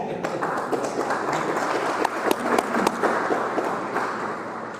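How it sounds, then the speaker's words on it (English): Club members at a Rotary meeting applaud: a room full of clapping with sharp individual claps standing out, while voices talk over it. "we know what everybody was applauding"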